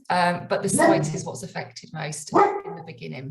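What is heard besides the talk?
dog barking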